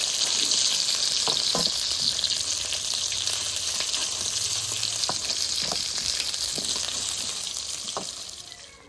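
Oil sizzles steadily as food is crisp-fried in a kadai in a home kitchen, a dense continuous hiss with a few faint clinks, fading slightly at the very end.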